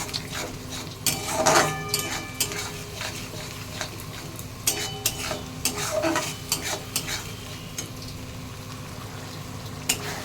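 A spoon stirs beaten sour yogurt into a hilsa fish mixture in a pot: steady scraping strokes with a few sharper clinks of utensil on metal over a soft background sizzle, close and moderately loud, with no talking.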